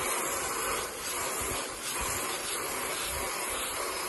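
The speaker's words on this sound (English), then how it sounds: "go outside with a hose and wash off your air unit." A garden hose sprays water onto an outdoor air conditioning unit, making a steady, close, continuous hiss of spray that holds without breaks for the whole stretch.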